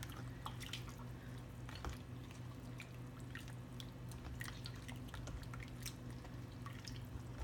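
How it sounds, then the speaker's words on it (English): Hands massaging marinade into meat for Filipino barbecue, quiet wet squishing and dripping sounds in soft irregular bursts over a low background hum. "Just want to massage it into the meat."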